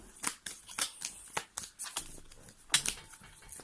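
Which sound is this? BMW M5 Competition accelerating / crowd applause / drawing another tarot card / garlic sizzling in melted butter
drawing another tarot card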